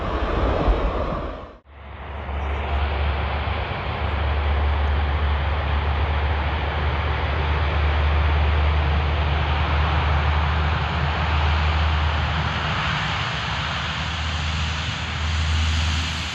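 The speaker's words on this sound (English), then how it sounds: "As the Hercules takes off" A Hercules transport plane takes off, its propeller engines producing a loud, steady broadband roar with a deep low hum. The roar holds for the whole stretch after a brief dip near the start, with no voices.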